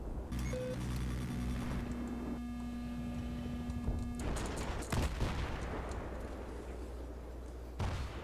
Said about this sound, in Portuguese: Ah, estão atirando em mim.